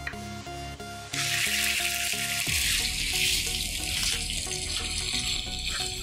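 Chicken pieces drop into hot oil in a pan, setting off a loud, steady sizzle of frying that continues throughout, with music playing over it.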